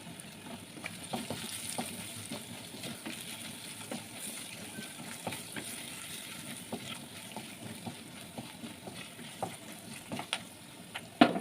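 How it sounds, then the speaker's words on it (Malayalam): Turmeric and chili powder sizzle and fry in a pan with sautéed ingredients over a low flame, a steady soft crackle with scattered stirring scrapes and clinks, ending in a sharper knock. "അതിലേക്ക് 1/4 ടീസ്പൂണോളം മഞ്ഞൾപ്പൊടിയും 1/2 ടീസ്പൂണോളം മുളക് പൊടി കൂടി ചേർത്തിട്ട് ജസ്റ്റ് ഒന്ന് മൂപ്പിച്ചെടുക്കുക."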